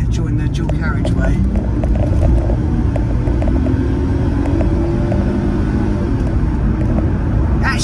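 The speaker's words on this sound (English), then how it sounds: "So today I'm driving my 1998 Mercedes C240." A 1998 Mercedes C240 V6 heard from inside the cabin while driving and accelerating onto a dual carriageway: a steady, dense low engine and road rumble that holds at an even loudness throughout.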